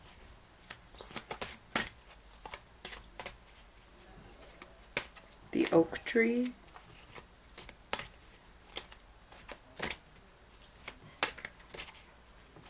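A deck of cards is shuffled repeatedly in quick riffling bursts, with a short spoken phrase in the middle.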